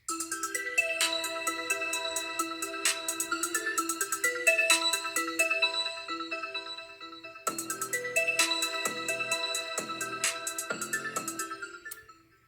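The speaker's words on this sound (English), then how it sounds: "for the bass to cut out and then come back in like this." A bright, bell-like synth melody loops over a rap beat. Partway through, a deep bass line enters and briefly drops out before returning.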